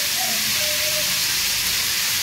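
Fish fries with eggplant and potato in a pan, giving a steady, close, continuous sizzle and hiss with no break.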